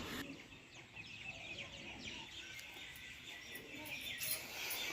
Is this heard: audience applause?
no